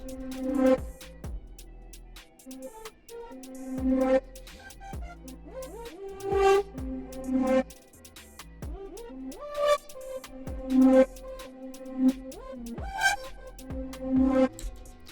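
A deep UK drill bass line follows the 808 pattern an octave down, playing a repeating pattern of low notes alongside melodic synth stabs, steady and moderately loud with no voices.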